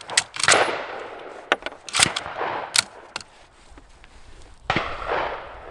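Rifle shots at an outdoor range, M44 and K98 bolt-action rifles, several sharp cracks at uneven intervals, some near and loud, others more distant, with the clatter of handling between them.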